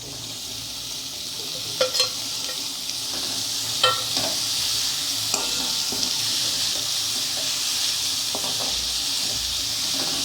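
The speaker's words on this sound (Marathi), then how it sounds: "आता यात आपण मेथी घालून घेऊ" Fenugreek leaves are stirred into potatoes and tomato frying in a pan for aloo methi, a steady close sizzle with a few sharp scrapes and clinks from the stirring spoon.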